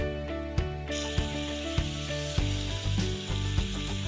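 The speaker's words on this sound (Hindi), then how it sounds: "अब एक फ्राई पैन में तेल, साबुत मसाला और प्याज डालकर गोल्डन ब्राउन होने तक फ्राई करें।" Onions and whole spices frying in oil in a frying pan, a steady close sizzle with periodic scraping and clinking of a utensil against the pan.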